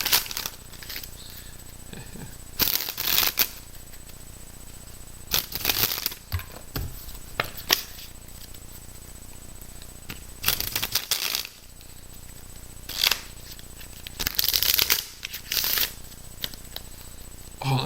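Playing cards being shuffled by hand in several quick riffling bursts spread over the stretch, close and crisp, with people talking in between.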